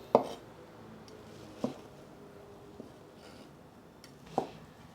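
A knife chops soaked wheat-gluten vegan meat slices on a board, four sharp separate thuds spaced a second or more apart over a quiet background.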